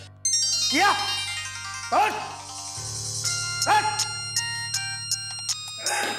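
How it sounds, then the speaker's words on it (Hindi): A mobile phone ringtone plays loudly and repeats as a looping melodic tune, with a brief spoken word over it. "सर, आपका फोन का रिंग बज रहा है"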